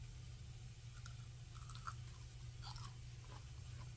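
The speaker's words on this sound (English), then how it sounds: "Can you hear the crunch?" Close, crisp crunching bites and chewing of deep-fried asparagus, a few sharp crackles spaced over a steady low hum, with no talking.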